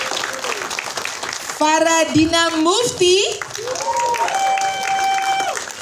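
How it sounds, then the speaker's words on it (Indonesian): Audience applause at an Indonesian film press conference for a dark Malin Kundang legend film, a steady wash of clapping running under a host's amplified voice as cast members are introduced. "boleh nggak kita berikan tepuk tangan juga"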